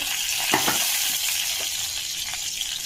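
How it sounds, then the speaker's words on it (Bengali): Bay leaves hit hot oil for a tempering, giving a steady close crackling sizzle with a few sharper pops in the first second. "এবার আমি তেজপাতা ফোড়ন দেবো"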